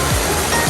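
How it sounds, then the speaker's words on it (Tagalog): Strong rushing floodwater during a storm, deep and fast-moving, gives a loud, steady broadband roar close by with no break, surging slightly in two low swells. "Grabe po ang tubig ngayon."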